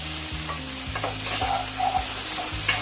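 Fried potatoes and parwal (pointed gourd) stirred into a cooked-down masala in a pan for a Bengali korma, with a steady soft sizzle and a few scraping spoon strokes close by, plus low tonal sounds beneath.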